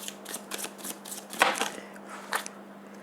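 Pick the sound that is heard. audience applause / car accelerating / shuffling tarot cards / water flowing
shuffling tarot cards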